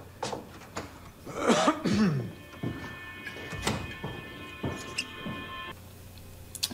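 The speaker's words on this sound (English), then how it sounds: "He's been coughing a bit lately." A man coughs a few times at low volume over faint room noise, with muffled thumps and a brief sustained tone afterward.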